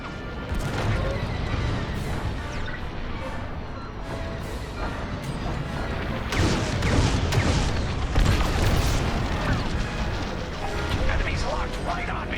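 Starship weapons fire in Star Wars: Squadrons amid a dense space battle, with repeated blasts and crashing booms over a constant engine roar, while voices talk over the action.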